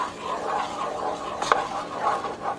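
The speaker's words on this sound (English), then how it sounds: "I'm going to keep stirring," Spoon stirring unsweetened cocoa into a thick no-bake chocolate mixture in a bowl, a soft continuous scraping and swishing with a faint clink near the middle, fairly quiet and without talk.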